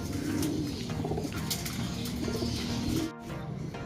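Racing pigeons cooing steadily at a loft during a midtoss race, their soft throaty calls continuous and close, with some chirps and fluttering mixed in and a brief dip in sound near the end.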